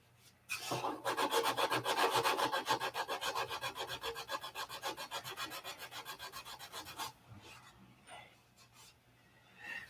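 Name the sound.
hand sanding wood with 500 grit sandpaper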